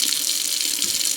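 Tap water runs into a cooking pot in a home kitchen, a steady close splashing hiss of filling water, alone without any voices.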